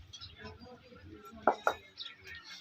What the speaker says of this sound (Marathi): त्याच्यावरती मी कढई ठेवते